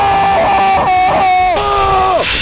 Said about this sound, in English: next time you should not be screaming in your normal voice